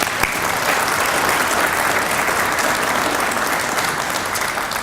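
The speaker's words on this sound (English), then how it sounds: "So let's give our family members a round of applause." Sustained, loud applause from an audience at a Veterans Day ceremony honoring military family members, dense clapping that holds steady for the whole stretch.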